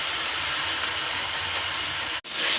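Pieces dropped into a hot pan of roasted spice powder, giving a steady loud sizzling hiss that cuts off briefly near the end and then flares up again.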